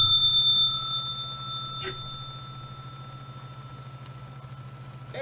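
A bright bell rings with a sustained, slowly decaying tone over a faint low hum, with a couple of small clicks along the way and no talking.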